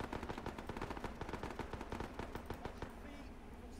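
Rapid automatic gunfire from a Vietnam-era Marine combat video game, a steady stream of close, loud shots that continues without a break and fades slightly at the end.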